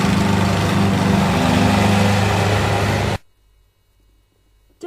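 A lawn mower mowing grass, a loud steady engine drone running close for about three seconds before cutting off abruptly into near silence.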